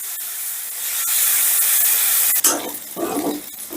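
Chicken pieces frying over high heat with salt and pepper give a loud, steady hiss and spatter, with a sharp crackling burst midway that settles into uneven sizzling, close by with no voices.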